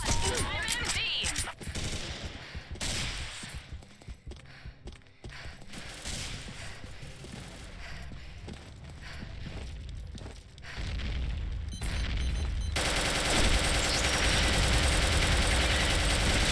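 Dense automatic gunfire and rapid bursts from the online shooter Combat Arms Reloaded on the Bloodbath Bazaar map, loud and continuous with overlapping shots, engine-like rumble and a sustained roaring wash in the final seconds.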